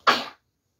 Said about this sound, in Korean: 기침 좀 할게요